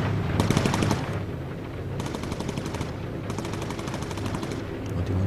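Rapid machine gun fire from a Lancaster MK1 bomber's turret in the World War II game Bomber Crew, loud bursts of fast rattling shots repeating three times with short pauses between.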